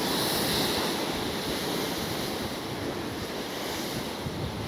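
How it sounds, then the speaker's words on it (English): Strong wind roars and rough sea waves crash against a rock groin on the Isle of Man coast, a steady, loud blustery wash without a break and with no voices. "Still waiting for this wind to drop."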